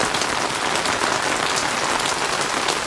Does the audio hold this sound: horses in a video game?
no